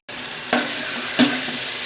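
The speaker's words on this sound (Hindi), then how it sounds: "ये हमने अच्छी तरह से मिक्स कर लिया और इसको अच्छी तरह से भूनेंगे।" Potatoes and carrots fried with masala in a cooking pot for pulao: a steady soft sizzle with two distinct scraping stirs of a spoon against the pot, no talking.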